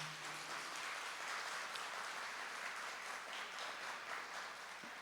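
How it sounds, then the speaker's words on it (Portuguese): Audience applause at a Palm Sunday Catholic church service, an even, fairly faint wash of many people clapping throughout, heard from a distance without speech on top. "Vamos aplaudir quem está em casa nos acompanhando?"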